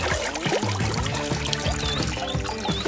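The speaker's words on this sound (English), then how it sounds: "Just add your dirty laundry to the bag and add water." Water pours steadily into a camping washing bag holding dirty laundry, a continuous close gurgling splash lasting the whole stretch.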